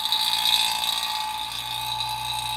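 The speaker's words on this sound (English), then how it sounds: "I'm gonna hook up the vacuum pump, get her going," A vacuum pump pulls vacuum on a car's AC lines, likely a Ferrari F355, giving a steady, loud mechanical drone with a high whine that holds unchanged and close throughout.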